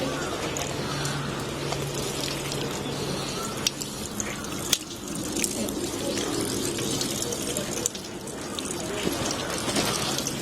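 Cold water poured and splashing at the hand-washing basin of Meiji Jingu Shrine in Tokyo in winter, a steady close trickle and spatter with occasional knocks and clacks, over faint outdoor background.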